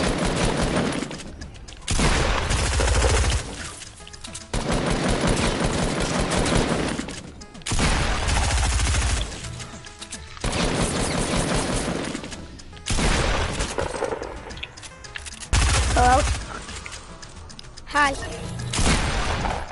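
Gunfire in a shooter video game: loud, rapid bursts that repeat every couple of seconds with short gaps between them, while people talk over the shooting.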